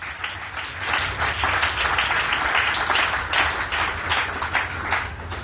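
Conference audience applauding steadily, a dense wash of many hands clapping at even loudness throughout with no voices over it.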